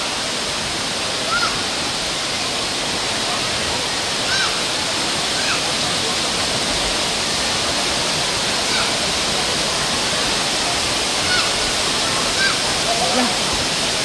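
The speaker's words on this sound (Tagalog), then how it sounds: "Grabe ang falls." A waterfall roars steadily and close by, a dense continuous rush of falling water that fills the whole stretch without pause.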